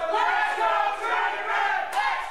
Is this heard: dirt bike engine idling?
no